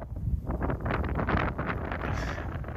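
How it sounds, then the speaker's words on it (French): Strong wind blows outdoors and buffets the microphone in a continuous loud rumbling roar with gusty surges, heard alone with no talking. "il y a trop de vent"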